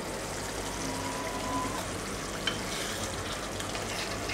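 Kakrol kalia curry being stirred in a pot, a soft steady sizzle and bubbling with faint scraping throughout, fairly quiet and without speech.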